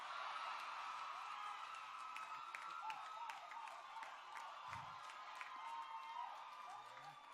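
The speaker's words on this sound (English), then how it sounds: "You can clap now, yes." An audience at a 2018 community college graduation ceremony applauds in a steady, dense patter of many hands, with scattered claps standing out. The sound holds at an even level throughout and is heard alone.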